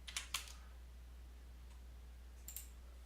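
Quiet keyboard clicks on a computer while entering commands in AutoCAD, a quick cluster of taps at the start and another short burst near the end, with a faint steady hum between.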